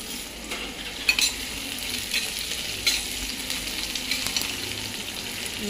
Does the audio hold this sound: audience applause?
no